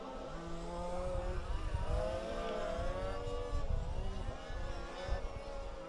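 Several petrol-engined 1/5th scale four-wheel-drive spec RC race cars, all with the same chassis and engines, buzz and rise and fall in pitch as they race around a track, overlapping continuously at moderate distance.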